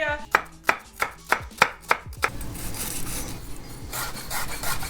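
A knife chops shallots on a board, about seven crisp evenly spaced strikes close up, followed by softer scraping and rubbing as the pieces are pushed around.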